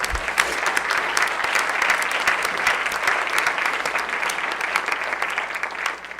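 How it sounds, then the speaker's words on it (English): An audience at a college's fall State of the College address applauds with dense, continuous clapping that holds steady and loud, then tapers off at the end, with no voices over it. "let's applaud them while we're at it"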